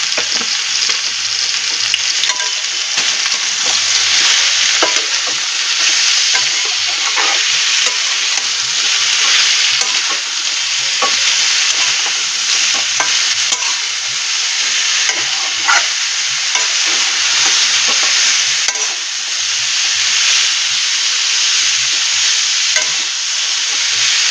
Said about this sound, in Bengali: অনেকগুলো সবজি, এগুলো ভাজা হতে সময় লাগবে